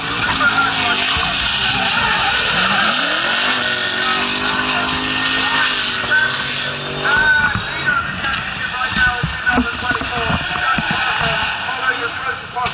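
Race car with a Honda K-Series engine of about 300 horsepower, a brand new build shaking down at a Tunerfest event, revving loudly and continuously with rising and falling engine pitch and bursts of tire skidding, while a commentator talks over it.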